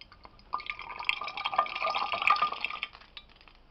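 Lard being added to water in the first step of making soap, giving a steady close wash of liquid sloshing and dripping that swells after the first half second and carries on throughout, with no voices.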